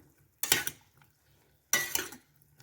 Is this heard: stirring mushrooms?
yes